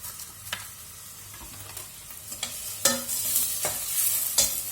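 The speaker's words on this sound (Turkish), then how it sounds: "Ben karıştırayım mı? Karıştır anneciğim. Yanmasın." Minced meat stirred in a hot pan, a low continuous sizzle under repeated scraping strokes of a utensil against the pan, a few sharper knocks standing out near the end.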